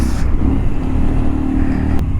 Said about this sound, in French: Oh, une Clio. Une belle bagnole